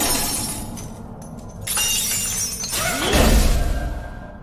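A glass bottle of T-Virus smashes in a film scene, a loud close shatter and spray of breaking glass, followed by a rumbling low swell as the sound carries on.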